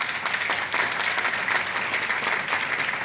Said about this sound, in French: il mérite des acclamations